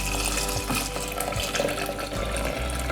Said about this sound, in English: Okay, 3 cups going into the bowl.